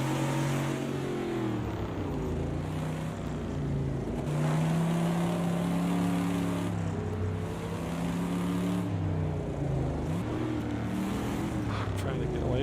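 Truck engine in a racing video game revving hard and repeatedly, with pitch rising and falling through steady low harmonics across the whole stretch, loud and continuous.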